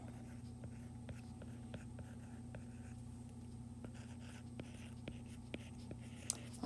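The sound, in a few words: writing out notes by hand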